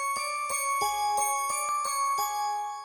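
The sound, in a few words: Light Bells synth sound from the Expand plugin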